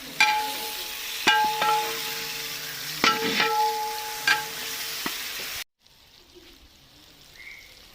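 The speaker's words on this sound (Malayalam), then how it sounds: "തക്കാളിക്ക ഗ്രേവിക്കകത്തേക്ക് ഇടുക നന്നായിട്ട് ഇളക്കി യോജിപ്പിക്കുക" Tomato being stirred into a sizzling chicken biryani gravy in a pan, with steady frying hiss and several sharp spoon clanks and scrapes against the pan, before the sound cuts to near quiet.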